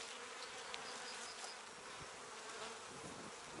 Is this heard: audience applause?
no